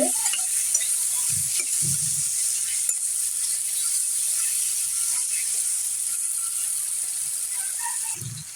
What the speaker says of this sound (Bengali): তারপরে কিছু পরিমাণ টমেটো টমেটো গুলো আমি ভেজে নিব মশলার সাথে